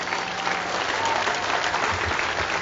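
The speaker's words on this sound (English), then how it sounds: "I want to give another round of applause to David Livering Lewis." Audience applause at the dedication of the W.E.B. Du Bois Monument in Great Barrington, Massachusetts: a dense, steady wash of clapping from a sizable outdoor crowd, sustained at even loudness throughout with no pauses.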